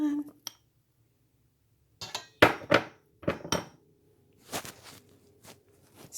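Chocolate Bavarian mixture scraped out of a bowl with a utensil: scattered clinks and scraping knocks in short bursts separated by silence, fairly close.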